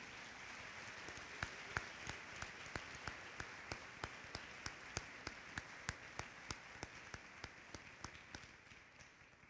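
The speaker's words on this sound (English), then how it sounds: "give a round of applause for the 10th grade summa cum laude" Quiet applause from an audience at a high school academic awards ceremony for a tenth-grade summa cum laude honoree, with a few distinct nearby claps standing out in an even rhythm over a soft background of clapping.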